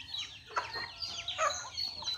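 Backyard chickens being raised for slaughter on a small farm cluck in several short, bright bursts, close by and moderately loud, with no talk over them.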